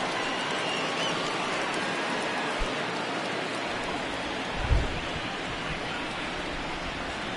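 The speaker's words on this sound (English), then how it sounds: "the rain starting to intensify here. It's coming down a little heavier now." Heavy rain pours steadily over an open-air baseball stadium at a Yankees game, a dense, even wash of hiss with a couple of brief low thumps partway through and no voices.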